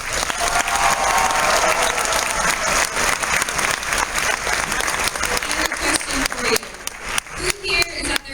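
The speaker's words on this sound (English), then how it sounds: "So give yourselves a round of applause" A large convention crowd at a fan gathering gives itself a loud, sustained round of applause, dense clapping that thins into scattered claps toward the end, with voices mixed in.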